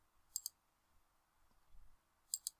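Two quick double mouse clicks, close and crisp, spaced about two seconds apart in a quiet room, made while checking a file in to SharePoint.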